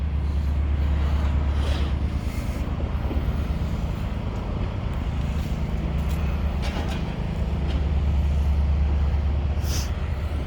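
A Ford Motor Company security vehicle rolls past outside the Michigan Central Station construction site in Detroit's Corktown, its engine and tire roar steady and close within constant traffic and wind noise, with no talk.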